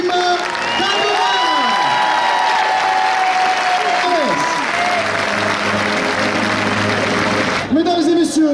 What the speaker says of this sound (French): Je vous demande s'il vous plaît un tonnerre d'applaudissements pour le champion de France 2025, Joachim Cavera